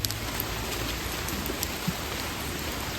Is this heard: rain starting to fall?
yes